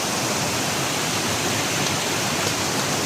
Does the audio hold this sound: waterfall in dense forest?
yes